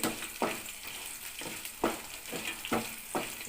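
Tempering spices, chana dal, urad dal, mustard seeds, cumin and fenugreek, frying in hot oil, a soft crackling sizzle broken by several sharp scraping stirs, close up.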